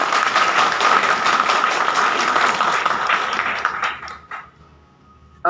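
An audience at an award ceremony in Banaras gives a round of applause, a dense burst of many hands clapping that thins out and dies away after about four seconds, leaving a few scattered claps.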